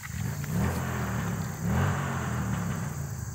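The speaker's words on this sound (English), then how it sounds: "Oh, that's that stupid Mustang actually. Speeds down the road." A Ford Mustang engine hums and revs along a road nearby, a steady mid-pitched drone that swells twice as the car speeds past, with no one speaking.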